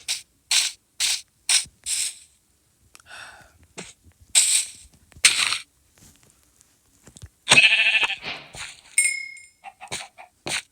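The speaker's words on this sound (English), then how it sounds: "Speaking of sheep, there one is." Several short bleats from a sheep in Minecraft sound alone in quick succession, interspersed with clicking block and game effects and a burst of sharper noise midway, all close and clear against silence.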